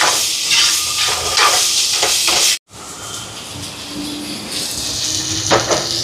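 Tomatoes sauté in a pan for a Jaffna-style fried chicken curry, with a bright steady sizzle and hiss interrupted by a brief silence before the frying resumes more softly.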